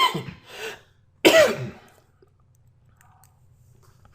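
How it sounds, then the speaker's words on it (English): A single man's cough, close and fairly loud, with a short muffled sound just before it, during a business presentation; silence follows. "Let me mute out because I feel a cough."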